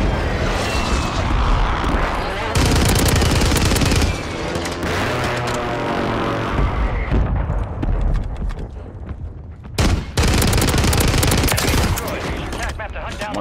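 MP7 and assault rifle fire in Warzone 3 on Rebirth Island: loud, dense automatic bursts lasting several seconds, broken by short pauses, with a voice speaking at times over the shooting.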